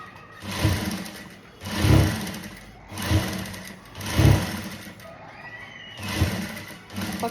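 Sewing machine stitching the hook part of a ready-to-wear saree with double and triple stitching: repeated short whirring bursts about every second, fairly close, with no talk.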